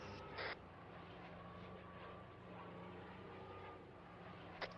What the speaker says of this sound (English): There's actually a nice little observation plane down there.